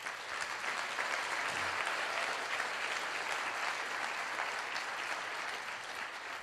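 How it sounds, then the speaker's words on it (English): Sustained applause from a motivational speech audience in Las Vegas, steady and dense clapping filling the whole stretch without pause. "Give yourselves a round of applause."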